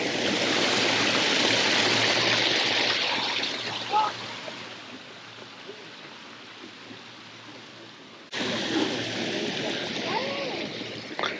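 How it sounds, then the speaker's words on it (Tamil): Water tumbles down a stepped, level-by-level waterfall in a Singapore garden park, a steady broadband rushing that dips midway and then surges back strongly, with faint voices in the background. "இந்த தண்ணியுடைய வேகத்தை கட்டுப்படுத்தவும் அதே போல் தண்ணியை சுத்தம் பண்ணுறதுக்கு அழகாக அந்த லெவல் பை லெவலாக பண்ணியிருக்கக்கூடிய"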